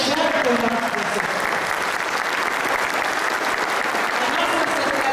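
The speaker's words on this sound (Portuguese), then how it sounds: "Eu quero que essas iás levantem e aplaudam a nossa ancestralidade" An audience applauds at an event for a terreiro community in Rio Grande do Sul, with loud, sustained, dense clapping from a crowd at close range throughout.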